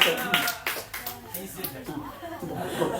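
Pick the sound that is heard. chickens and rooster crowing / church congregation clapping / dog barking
church congregation clapping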